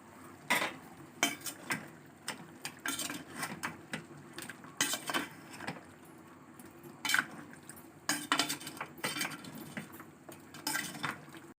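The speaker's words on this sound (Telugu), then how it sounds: "పసుపు వేసుకుని కలుపుకొని మూత పెట్టుకుని మగ్గనివ్వాలి" Country chicken is mixed with turmeric in a metal pressure cooker, making repeated clattering scrapes and clinks of a spoon against the pot in irregular bursts, fairly quiet, no voices.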